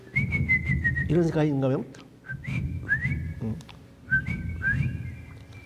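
A person whistles short, rising and steady bird-like notes by mouth, imitating bird calls in a series of brief phrases, while someone talks briefly in Korean between the whistles.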